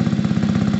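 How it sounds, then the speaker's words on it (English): A Gilera DNA 125 scooter engine with a poorly tuned carburettor idles up close, a steady fast low putter with no other sounds. "So at the moment it's idling."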